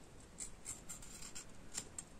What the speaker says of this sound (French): On prend les ciseaux et on vient le retailler.